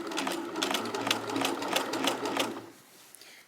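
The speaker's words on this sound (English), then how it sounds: "I'm literally just going to sew the first bit of the elastic down, and it is caught inside the hem" Sewing machine stitching elastic into a fabric hem, a steady close run of quick needle taps over a low motor hum, quieting toward the end.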